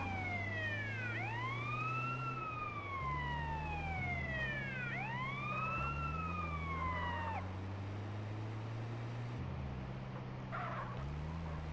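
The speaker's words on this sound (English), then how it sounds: "Going to activate the siren and pressing R3, canceling the mission" An emergency vehicle siren in the game GTA San Andreas, wailing in rising and falling sweeps that repeat steadily over a continuous engine drone. No voices are heard over it.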